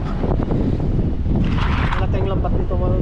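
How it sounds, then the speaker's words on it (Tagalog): Strong wind blows across the open sea around a small fishing boat, a steady roar of broadband gusts and buffeting on the microphone, with someone talking over it for much of the time. "Medyo malakas ang hangin ngayon"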